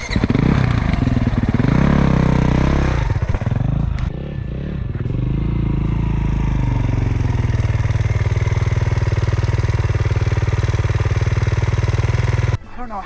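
A 2024 Kawasaki KX450X dirt bike engine revs loudly up close at first, then settles into a steady running drone, with people talking over it.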